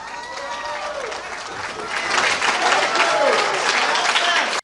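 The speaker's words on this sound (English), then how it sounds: "So it's going to be some applause and cheering for her." Loud crowd applause and cheering at a mayoral campaign headquarters in Chicago on election night, a dense wash of clapping with shouts that swells louder about halfway through and holds steady to the end.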